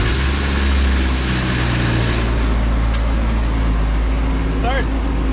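A turbocharged single-cam Nissan 240SX engine runs with a steady, loud, low idle rumble that holds evenly throughout, close to the listener.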